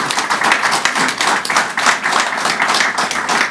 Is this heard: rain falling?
no